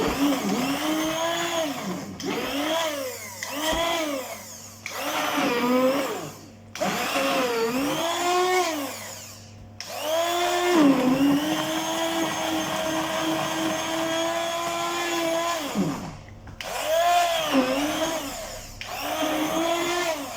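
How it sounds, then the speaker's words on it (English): A cheap handheld stick blender whirs through leek and potato soup in repeated bursts, its loud motor pitch rising and falling as it churns, with short pauses between pulses and one longer steady run. "just get a nice little stick blender, a few quid"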